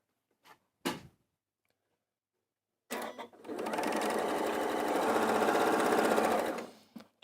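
A sewing machine runs steadily for several seconds, stitching the seam of a quilt block, after a couple of brief handling clicks; close and fairly loud, with no talk.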